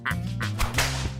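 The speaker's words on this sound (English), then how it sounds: "that nasty overseer and his even nastier whip" An overseer's whip cracks sharply several times in quick succession, loud and close, over a steady low droning background.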